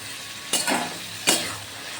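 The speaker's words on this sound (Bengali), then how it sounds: "একটু কষবো, যাতে ডিমগুলোর মধ্যেও একটু মশলাটা ঢুকে যায়।" Fried eggs and cooked mutton are stirred in spicy masala in a pan, giving two quick scraping stirs over a soft, steady sizzle.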